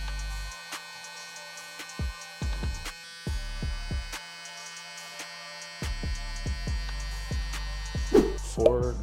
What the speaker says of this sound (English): Grab our soft trimmer and use the corner.